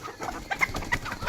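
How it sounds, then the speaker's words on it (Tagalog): Bantam chickens at feeding time in the countryside, a busy cluster of soft clucks and short calls overlapping in an uneven rhythm, close by and moderately loud, with no talk. "Feeding time, bantam."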